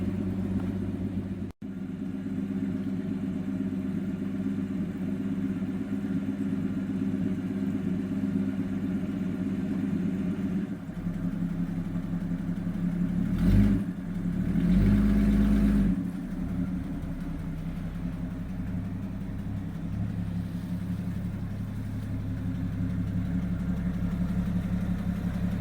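1969 Ford Falcon engine running steadily on the road, a low continuous rumble heard from inside with a brief swell partway through and a sharp knock near the start.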